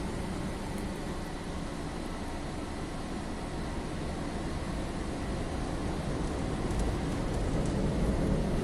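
Inside a car going through an automated car wash, a high-pressure blower roars in a steady, loud broadband rush that fills the cabin without a break.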